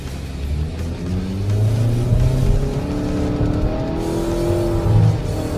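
A Mitsubishi Outlander engine revs hard as the SUV accelerates to 70 km/h on a slalom course, a loud, steady drone with rising harmonics and faint tire noise throughout.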